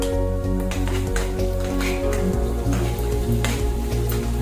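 Onion with ginger-garlic paste sautéing in a pan while a green bean sabzi is cooked, giving a steady, soft sizzle with light stirring under continuous background music.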